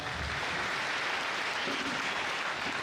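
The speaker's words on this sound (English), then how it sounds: "Give ourselves a clap." An audience at an outdoor speech in Kenya welcoming a visiting politician claps in a dense, steady wash of applause held at an even level throughout.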